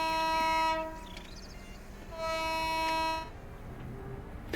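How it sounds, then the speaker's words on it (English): A train in the Train Simulator 2021 video game sounds two long, loud horn blasts over a steady rumble of rolling carriages, with no talking. "Let me get this train going."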